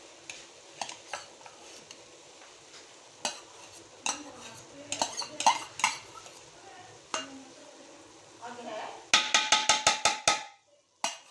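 Coloured rice for mutanjan is tipped into a pot with scattered metallic scrapes and taps, ending in a quick run of sharp ladle knocks against the rim before the sound stops abruptly.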